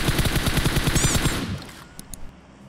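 Rapid automatic gunfire in PUBG Mobile rattles out in loud, dense bursts for about a second and a half, then drops to quieter scattered shots and faint background noise.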